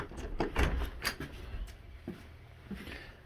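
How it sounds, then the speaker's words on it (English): A shop door is tried and rattled, giving a few soft knocks and clunks at moderate distance with quiet room tone between them and no voices. "I don't know if this door was unlocked yet."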